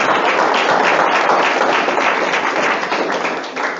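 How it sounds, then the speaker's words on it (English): A conference audience giving themselves a round of applause, clapping loud and dense throughout before easing off slightly at the end. "So you just give yourselves all a really nice round of applause"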